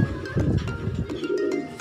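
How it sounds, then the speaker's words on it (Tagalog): A returning pigeon coos at a home loft, giving low, throaty rolling coos in a few repeated phrases close by, with faint chirps above. "May bumalik na namang ibon sa atin dito"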